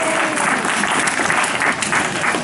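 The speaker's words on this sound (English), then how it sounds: "Everybody give Cassidy a round of applause" An audience at a pirate-themed magic show claps for a volunteer named Cassidy, a steady, full round of applause filling the whole moment without letup.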